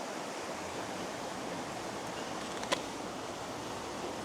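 A river rushes steadily beside a camp breakfast spot, a constant broad hiss of flowing water with one faint click partway through and no voices.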